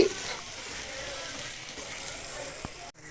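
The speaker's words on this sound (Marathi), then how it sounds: "हे आमचे पाव भाजणं चालू आहे" Pav bread roasting in ghee on a hot pan gives a soft, steady sizzle close by, faint and even throughout, ending with a sharp little knock.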